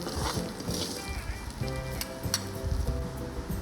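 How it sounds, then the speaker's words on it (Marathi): Close, steady sizzling as vermicelli roasts in ghee over low heat, with soft scraping stirs and faint clicks over a low background hum. "त्यामध्ये शेवया टाकून घ्यायच्या आहेत आणि त्या मंद आचेवरती लालसर होईपर्यंत भाजायच्या आहेत"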